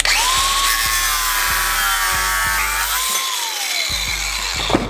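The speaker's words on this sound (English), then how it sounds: "I'm actually gonna cut this drill bit off and just use like the thicker portions" A power tool cuts off a worn drill bit for a Gen 3 Hemi Mustang project. It gives a loud, continuous high whine with a grinding edge and steady rhythmic knocking, briefly dropping off and then resuming near the end.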